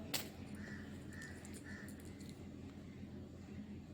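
Three or four crow caws in quick succession, moderately distant outdoors near a home, over constant low rumble, followed by quieter background noise.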